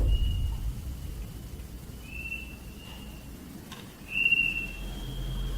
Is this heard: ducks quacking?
no